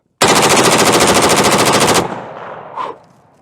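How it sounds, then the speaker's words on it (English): Gunfire from an Orca gun during an accuracy test: a loud, rapid burst of closely spaced shots lasting about two seconds, then a fading echo and one short distant sound. "Let's see if we can do another 5 rounds."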